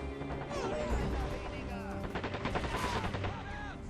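Enemy sniper fire in Men of War Assault Squad 2, heard as repeated gunshot cracks within a dense WWII battle mix of machine-gun bursts and rumble, with voices faintly underneath.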